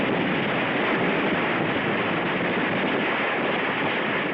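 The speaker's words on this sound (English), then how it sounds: "Our rifle fire is deadly." Dense, continuous rifle fire and battle noise from Tarawa holds at a steady loud level with no pauses, forming a roaring wash of gunfire rather than distinct separate shots.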